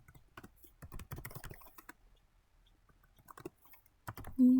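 Clicky keystrokes on a computer keyboard come in quick bursts with pauses between, close and moderately loud, while someone enters a data-structures program for sorting values, with no voices over it.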